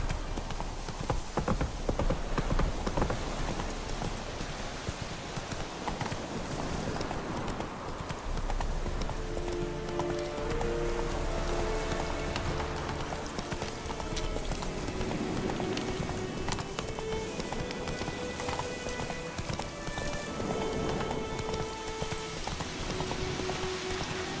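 Horse hooves galloping in the rain in The Witcher 3, a steady loud clip-clop under rainfall, with tonal background music rising through the latter half.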